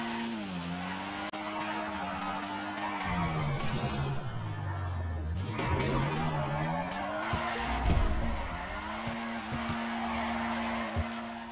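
A car drifting in GTA 5 skids continuously, its tires squealing through the whole stretch while the engine note rises and falls with the slides, loud and close with no talking.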